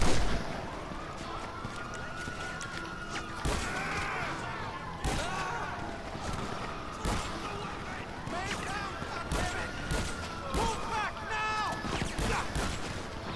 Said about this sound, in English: Yeah, the double barrel shotgun.